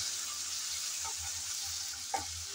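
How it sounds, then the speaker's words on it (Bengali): Ginger and garlic paste fries in a pan with a steady, soft sizzle, while a utensil stirs it in a few light scrapes and taps, one slightly louder knock near the end. "আদা রসুন বাটা দিয়ে হালকা করে নাড়িয়ে নেব যাতে কাঁচা গন্ধটা চলে যায়"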